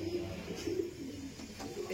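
Home-bred pigeons coo softly in a loft, a low, rolling murmur heard faintly under a voice nearby.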